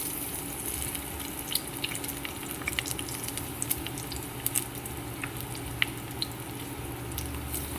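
Garlic sizzles steadily in a hot pan while sautéed for ginisang patola, a continuous close frying hiss dotted with small crackles and pops, with no voices.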